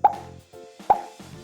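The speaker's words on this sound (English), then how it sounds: "it plays the sound pop and it also changes to next costume" A cartoonish pop sound effect plays twice from a clicked Scratch sprite in a pop-it game, two short bright plops about a second apart, clean and close with nothing else around them.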